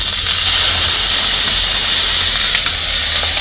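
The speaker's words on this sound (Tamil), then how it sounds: "சின்ன வெங்காயம் பொடியாக கட் பண்ணி வச்சுருக்கேன் அதை சேர்த்துக்கிறேன் இது கூடவே கருவேப்பிலை இதெல்லாம் சேர்த்துட்டு நல்லா வதக்கிக்கலாம்" Chopped shallots, fennel and curry leaves sizzling in a pan while tomato kadayal is cooked, giving a loud, steady, close hiss of frying that holds without pause and has no talking.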